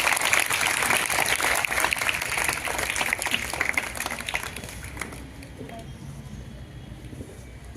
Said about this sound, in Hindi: बच्चों, जोरदार ताली के साथ।